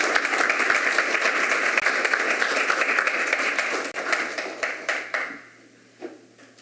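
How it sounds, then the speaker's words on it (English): A room claps for honorees at a mayor's service awards ceremony, steady applause that thins into scattered claps and fades out near the end. "join me in another warm round of applause for all our honorees"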